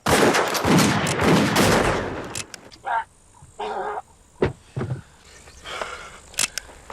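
Gunfire from the 1988 western film Young Guns: a dense, loud volley of shots early on, then scattered sharp single shots, with voices talking between them.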